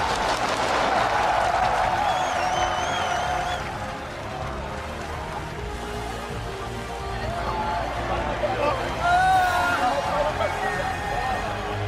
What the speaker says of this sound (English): the crowd's giving a standing ovation after that one